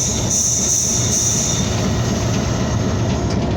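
The Hazara Express passenger train runs loudly and steadily on its rails at night, a close, continuous roar with a high wheel squeal near the start and no voices.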